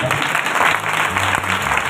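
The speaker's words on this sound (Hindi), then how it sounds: "जोर से ताली बजाएंगे।" Loud applause from a church congregation at a New Jerusalem Church service, dense clapping that fills the whole short stretch, with a voice and some low voices mixed in underneath.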